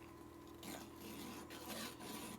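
Sandpaper rubs inside a small part of a Singer Touch & Sew sewing machine, smoothing a needle-burred lip; a steady close rasping scrape with brief pauses, alone and fairly quiet.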